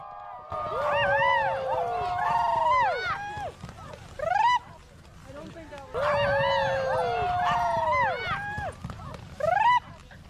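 Sled dogs at a race in Anchorage, Alaska, howling and yipping together in a loud chorus of rising, wavering cries. It comes in two long swells with a brief lull between, close by over a steady rumble of background noise.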